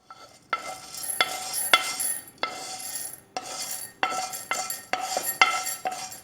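Roasted urad dal is moved into another bowl with a metal spoon, making a series of sharp clinks and scrapes against the metal at an uneven rhythm, close up.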